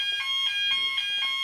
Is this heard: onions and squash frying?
no